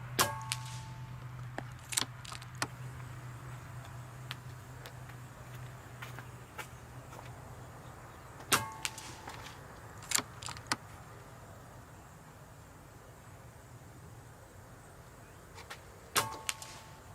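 Shots from a Daystate Pulsar .22 air rifle fired outdoors in a variable crosswind, a sparse series of sharp close cracks spaced a few seconds apart over a faint constant hum.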